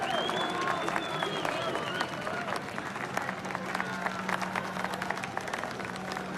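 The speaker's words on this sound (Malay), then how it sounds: "Tepukan gemuruh untuk satu-satunya biduan kita" Thunderous applause greets the singer, a crowd clapping steadily under music with scattered sharp claps and murmuring voices.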